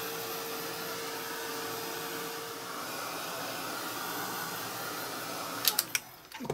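A heat gun blowing on wet paint, a steady airy whir with a constant hum that runs evenly for most of the clip, then stops, followed by a few brief clicks and knocks near the end.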